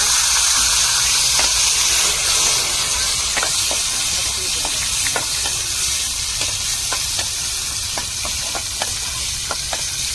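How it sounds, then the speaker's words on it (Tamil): Steady sizzling hiss of tomatoes frying in hot oil for a squid curry, with occasional sharp pops and crackles scattered throughout. "தக்காளியை சேர்த்து வதக்கிக்கிறோம்"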